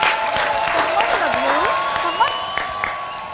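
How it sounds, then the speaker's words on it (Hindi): A studio audience claps and cheers to welcome guests onto a comedy talk show, lively continuous applause with some whoops. "आपकी भरपूर तालियों में तशरीफ लाते हैं टीचर और स्टूडेंट"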